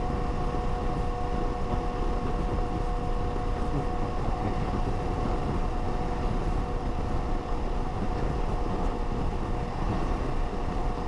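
Long freight train in outback Australia rolls past up close, a continuous loud rumbling roar with steady wheel rattle and a faint tonal hum, unbroken throughout.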